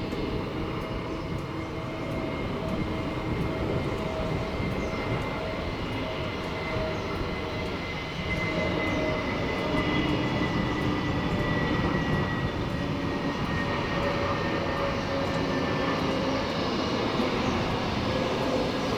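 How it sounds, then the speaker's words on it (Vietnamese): A Sun Phu Quoc Airways Airbus A320neo comes in to land, its engines a continuous broad roar that holds steady for about nineteen seconds and swells slightly partway through, with no voices. "mời mọi người chiêm ngưỡng pha hạ cánh của chiếc Airbus A320 Neo của Sun Phú Quốc Airways nhé"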